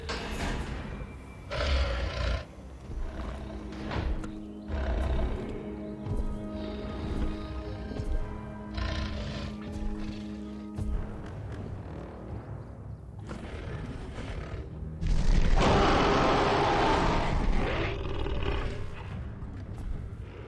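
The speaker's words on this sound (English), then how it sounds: "But first, the Spinosaurus's roar. It finally got the actual Jurassic Park 3 roar." Spinosaurus roars from the video game Jurassic World Evolution: several loud, drawn-out bellowing roars in sequence, with a heavier, broader burst near the end, carried over a busy game soundscape.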